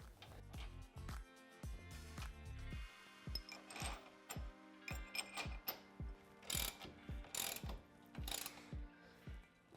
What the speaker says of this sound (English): Then we can use our 17mm socket to tighten these down.